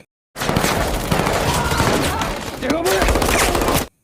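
Heavy gunfire in an Indonesian action film, The Big 4, where three people are showered with shots by Antonio's troops: dense, rapid bursts of automatic fire, loud and continuous, with a brief lull before resuming.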